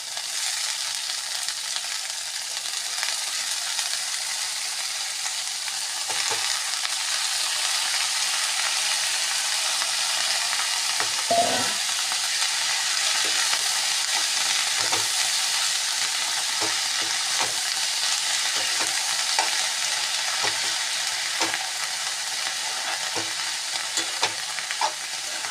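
Shredded cabbage sizzling steadily in a hot pan for cabbage gojju, a continuous bright hiss broken now and then by soft scraping stirs of a spatula, with no voices.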